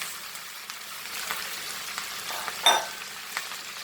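Taro root (arbi) frying in a pan of hot oil, a steady soft sizzle and crackle with occasional stirring taps and one brief louder burst, close and continuous with no speech.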